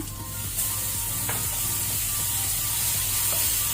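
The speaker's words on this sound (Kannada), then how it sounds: "ಇದನ್ನೀಗ ಕೆಂಪಾಗೋ ತನಕ ಫ್ರೈ ಮಾಡ್ಕೊಳ್ಳುವ." Chopped onion and tomato fry in a pan for a mutton liver masala, giving a loud, steady sizzle with occasional scraping and stirring clicks.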